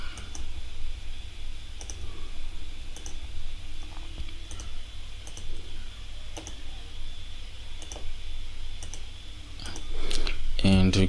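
Sparse, light clicks of a computer mouse and keyboard while working in ArchiCAD software, evenly spaced and faint over a steady room hiss, ending in a quick louder cluster of taps.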